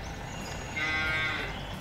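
A cow moos once from a farm barn in Landwirtschafts-Simulator 19, a drawn-out mid-volume low call rising over steady game ambience, alone with no talk.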